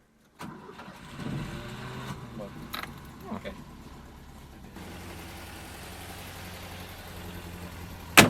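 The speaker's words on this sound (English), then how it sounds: "The engine started without even batting an eye." A 1970s Ford Escort MK1 cranks and catches, then settles into a steady, rough idle that runs for several seconds, with a brief spoken word over the start.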